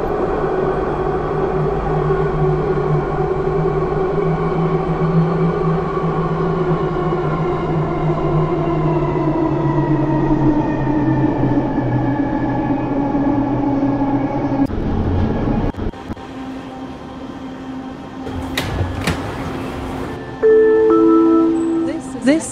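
Vancouver SkyTrain Expo Line 1995 Bombardier ICTS Mark 1 train bound for Waterfront, a loud close electric whine sliding down in pitch as it slows and stops, then door chimes and announcement tones.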